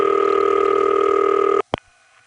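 Ringback heard through a crossbar telephone exchange, a steady buzzing ring tone with a high tone behind it, ending in a sharp click and then a faint, quiet line.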